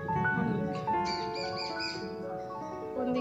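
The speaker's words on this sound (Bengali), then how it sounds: "টিয়া পাখি ডাকছে। আমাদের এখানে অনেক টিয়া পাখি আছে" Parakeets call from a tree, short bright chirps and squawks repeating at moderate distance over a faint background.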